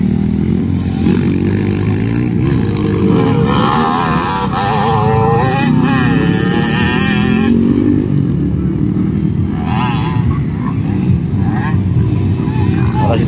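Motocross bikes race in a local enduro final at a town fiesta in Talacogon, engines droning and revving steadily at mid distance with crowd noise and a voice over a loudspeaker.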